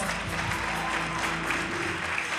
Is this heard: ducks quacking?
no